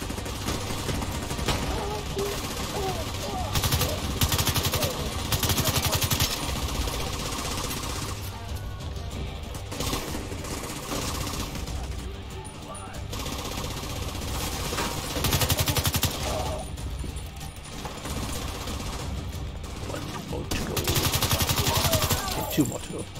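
Rapid bursts of gunfire from The Division 2 video game, shotgun blasts and automatic rifle fire rattling almost continuously at high volume, with occasional brief lulls between volleys.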